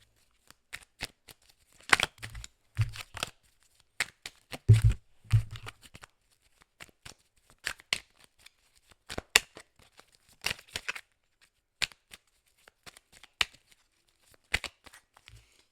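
A deck of Oracle de la destinée cards is shuffled by hand in repeated quick riffles and flicks, crisp papery bursts separated by short quiet gaps, close and fairly soft.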